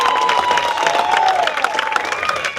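Crowd at a big wave surfing contest, the Eddie Aikau invitational, bursting into sustained applause and cheering, a dense wash of clapping and shouts heard from within the crowd.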